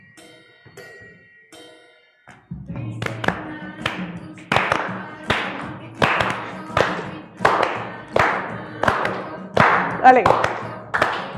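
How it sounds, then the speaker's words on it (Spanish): Hand claps in a static gymnastics class follow a rhythmic pattern, two on one side and one on the other, sharp and evenly spaced over a low backing beat, with a brief spoken word at the start. "Va, vamos a empezar aplaudiendo. Dos de un lado, uno del otro."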